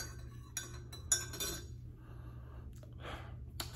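A spoon clinks against a coffee mug while stirring in M&M's chocolate coffee creamer, giving a few close, bright taps between quiet breaths.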